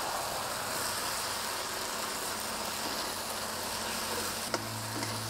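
Morning glory greens stir-fry in very hot oil in a Thai kitchen, a loud, steady, close sizzle and crackle that fills the whole stretch, with a brief clink near the end.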